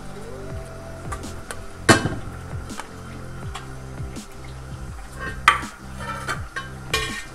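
Lightly fried potatoes coloured with orange food colour are mixed into chicken korma in a pot for chicken biryani. Two sharper clinks or scrapes stand out over soft stirring and steady background music, with no talking.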